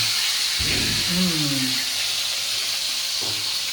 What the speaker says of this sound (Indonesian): Ini waktunya goreng, penggorengan.